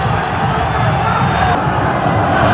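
Vasco football supporters roar together in a packed stadium during a 2004 Brasileiro match against Coritiba, a dense, continuous crowd noise with a commentator talking over it.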